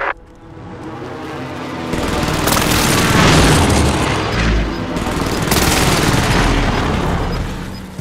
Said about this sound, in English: Mark target for airstrike. This is Phoenix 3. Strike inbound.